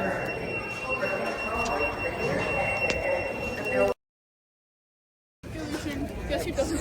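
A school fire alarm set off by a bathroom smoke detector sounds as a steady, piercing tone over indoor chatter. It cuts out briefly, then resumes.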